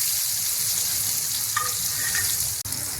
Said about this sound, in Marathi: अंडी ती फ्राय करून घ्यायची